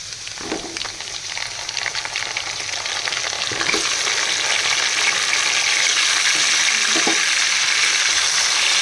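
Chicken pieces fry with onions in a pot for biryani, a loud, steady sizzle and hiss that builds slightly as the meat goes in, with a few soft scrapes of stirring and no talk.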